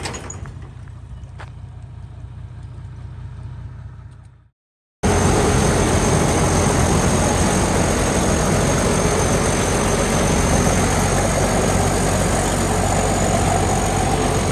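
Heavy diesel engine of a ten-wheeler truck idling at close range, a steady low rumble that cuts out for a moment and resumes louder and fuller, continuing evenly without talk.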